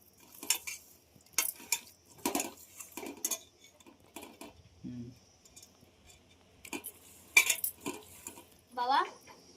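Fish pieces being mixed with masala marinade for fish biryani, with intermittent scraping, clinking utensil and bowl sounds close up in short bursts, and brief quiet gaps between them.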